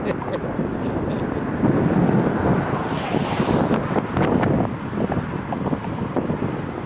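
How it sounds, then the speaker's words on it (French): Strong wind buffets the microphone in continuous rumbling gusts, with faint voices partly buried beneath the roar. "Il y a un vent pas possible."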